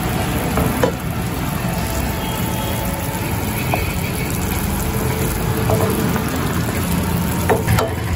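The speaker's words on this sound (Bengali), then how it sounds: "গ্রেভিটা ফুটছে, এখন আমি ভেজে রাখা বেগুনগুলো দিয়ে দেবো।" Fried eggplant dropped into a boiling yogurt gravy for doi begun gives a loud, continuous sizzle and bubbling, close by, with a few faint clinks of stirring.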